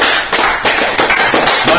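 A small group of people claps in bursts of applause, a few quick rounds of hand claps, loud and close.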